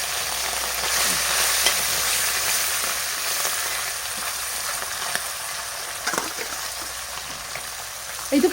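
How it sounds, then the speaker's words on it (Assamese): Fish from a home pond frying in oil in a wok in a home kitchen, a steady close sizzle with occasional stirring scrapes and clinks, continuous and without talk. "এইকেইটা মাছ ভাজি হ'ল আৰু এইখিনি আছে ভাজিব"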